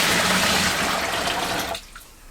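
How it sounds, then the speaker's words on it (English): About three litres of boiling water pour into a homebrew fermenter in a strong, full, rushing stream for about two seconds, then stop abruptly, leaving a faint dripping quiet. "I'm going to pour that straight into here."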